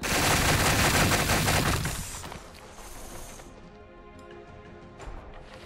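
Units firing in Gladius Relics of War, with a loud, dense barrage of shots that fades after about two seconds into quieter rattling and faint game ambience.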